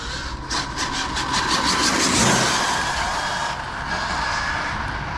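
A Super Baja RC car engine races past with a rising and falling buzzing whine and a loud mid-clip peak, then settles back to a steady drone.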